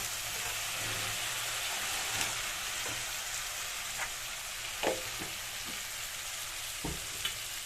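Pre-fried pointed gourd is stirred into sizzling masala, giving a constant soft frying hiss with occasional light spatula scrapes and taps, close but fairly quiet, with no talking.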